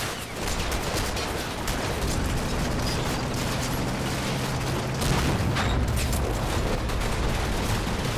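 Combat battle noise from a Combat Mission game set in Normandy's Operation Epsom at Mondrainville: a PIAT anti-tank round fired at a Panzer and missing. Dense, continuous rumble and crackle of gunfire and mechanical clatter, loud throughout, with a heavier burst near five seconds.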